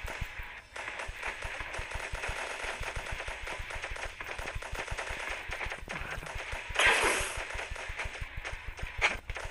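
Rapid bursts of automatic gunfire in a robot transformer video game, dense rhythmic shots that run nearly continuously at close range, with a louder blast near the end and no voices.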